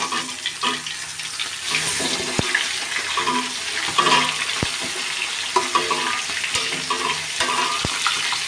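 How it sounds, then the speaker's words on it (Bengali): A whole hilsa fish fries in hot oil in a pan, crackling and sizzling continuously up close, with occasional sharp taps from a utensil. "এই যে মাছ ভাজা হয়ে গেছে"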